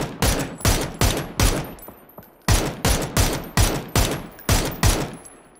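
Bursts of automatic gunfire from enemy bots in a shooter game, roughly a dozen sharp, loud volleys in an uneven rhythm with a brief pause midway.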